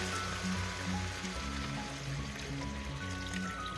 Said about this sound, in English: From here, I'm gonna add my water. Just enough for now to cover the meat.